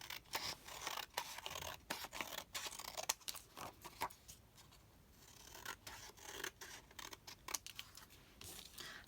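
Scissors snip through a sheet of collage paper in many quiet, close cuts with a steady rhythm, mixed with soft rustling of the paper.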